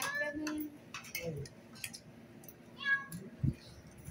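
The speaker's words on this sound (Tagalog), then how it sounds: "pusa rito." A cat meows a few times, soft and fairly close, amid quiet background sounds and faint movement.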